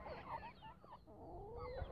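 Chickens on a small home animal farm in Jamaica cluck softly and repeatedly in short, wavering calls, faint and fairly close, with no talk over them.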